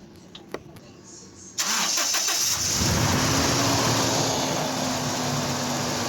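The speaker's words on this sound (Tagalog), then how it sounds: "At pag okay na, pa-start ko na itong makina." A Toyota Innova in a mechanic's shop, just after clutch fluid work, cranks briefly after a few faint clicks, then catches and settles into a steady, loud idle that hums on close by with no talk.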